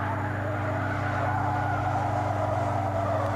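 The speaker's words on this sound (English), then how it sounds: "We're right on the edge, you can hear the tires squealing." A car engine roars steadily while tires squeal under hard cornering in oversteer at the limit, a continuous strained screech close by.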